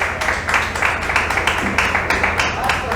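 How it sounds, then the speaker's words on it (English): A studio audience applauds a guest on a business talk show, a steady wash of clapping with slight rhythmic swells, fairly loud and close, with a voice faintly present underneath. "y'all give him a round of applause"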